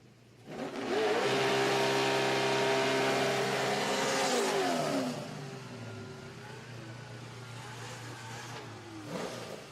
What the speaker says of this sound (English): as Frank Romano brings the 55 Chevrolet to the ready line.